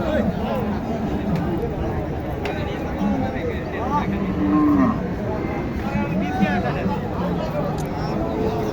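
Cattle low and moo at a busy cattle market for livestock, calls rising near and clear over constant crowd chatter and people talking close by.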